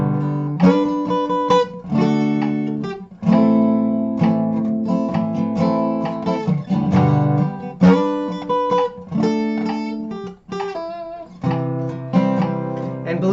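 Slow guitar strumming of a song at 66 bpm, steady unhurried chord strokes ringing out one after another, close and alone with no talking.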